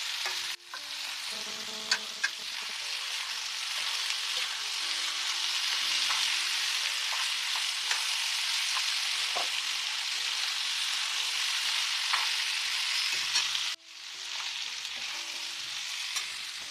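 Ivy gourd pieces for an ivy gourd and potato fry sizzle steadily in a hot pan, with a constant loud frying hiss and scattered scrapes and clinks as a spatula stirs them, and no talking.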